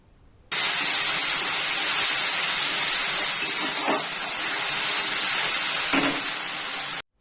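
Spice paste sizzles in hot oil while it is fried for a thin rui fish curry, giving a loud, steady hiss with brief stirring scrapes near the middle and end.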